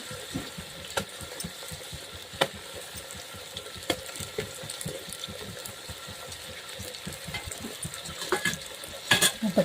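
Eggplant curry is stirred in a pressure cooker, with rapid rhythmic scraping strokes of a spoon against metal and a faint sizzle underneath, close and steady, a sharper clatter near the end, no speech.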